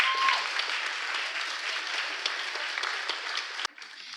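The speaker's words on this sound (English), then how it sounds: "Let's applaud for them." Audience applause for student prize winners at a school event, a steady wash of many hands clapping that cuts off abruptly near the end.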